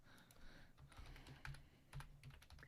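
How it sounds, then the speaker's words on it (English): Typing on a computer keyboard, a quiet close run of irregular key clicks with a few firmer taps, no speech. "Let me type that."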